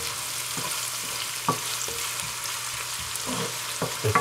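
Crushed garlic and onion frying in hot oil in a pan, producing a continuous close hiss and crackle with occasional soft pops and stirring taps.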